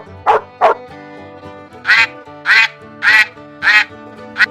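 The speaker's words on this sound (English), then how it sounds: "A duck. It's a duck." Duck quacking on a farm: six loud, close quacks, a pair at the start and then four evenly spaced calls, with no talking.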